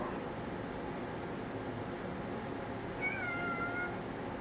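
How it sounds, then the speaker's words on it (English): A domestic cat meows faintly once in a quiet room, a short rising-and-falling call over a steady background hum. "hush, kitty cat."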